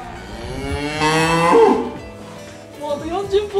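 Tajima black Wagyu cattle mooing inside a cattle barn: one long, loud, drawn-out moo that swells and fades, followed by lower, shorter bellows close by.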